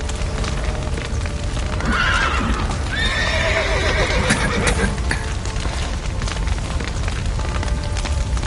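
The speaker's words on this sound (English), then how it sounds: "The horses!" Horses in The Witcher 3 on PS5, loud whinnies and neighs near at hand, with hooves clopping and a burning, collapsing building crackling and booming behind them.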